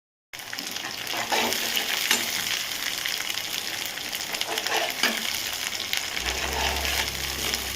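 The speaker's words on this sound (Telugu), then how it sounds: "ఆనియన్స్ ఏంటంటే తొందరగా వేగుతాయి అన్నమాట" Onions frying in a pan with salt and ginger garlic paste give a steady, close sizzle with occasional stirring scrapes and no talk.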